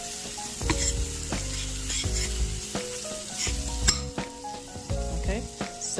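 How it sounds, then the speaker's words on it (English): Garlic sizzles in butter in a pan as it is stirred. A steady, close frying hiss runs throughout, broken by repeated utensil strokes and soft scraping, with no talking. "I've added the garlic to the butter, and then I'm just gonna give it a little"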